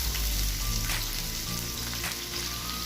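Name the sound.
garlic and onion sizzling in hot cooking oil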